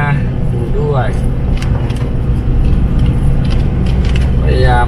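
Car climbing a steep mountain road in third gear at about 2,000 rpm, a loud steady engine drone with road rumble inside the cabin, while someone talks over it throughout.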